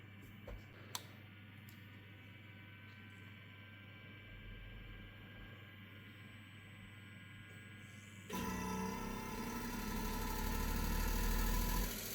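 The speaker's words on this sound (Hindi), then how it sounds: "तो आपको कंप्रेसर की आवाज़ आ रही होगी इसकी। कंप्रेसर इसका उल्टा घूम रहा है।" A Carrier inverter air conditioner's compressor, running in reverse during PCB repair, hums steadily at low level before stepping up abruptly into a louder, denser mechanical drone that continues to the end.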